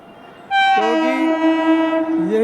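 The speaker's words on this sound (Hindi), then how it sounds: "अब ये देखो ट्रेन हॉर्न बजा रही है" A train horn blares loud and close, a sustained harmonic blast that bends in pitch and holds for about two seconds over a low rumble of the passing train.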